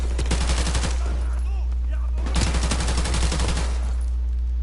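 AK-74U gunfire in Call of Duty 4, two bursts of rapid automatic fire, loud and close, separated by a short lull.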